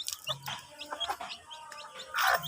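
A hen clucks in short, irregular bursts, fairly close but quiet, with soft farmyard background and a louder squawk at the end.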